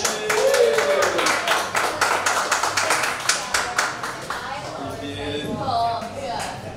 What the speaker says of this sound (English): Everybody, put your hands together for Aayush.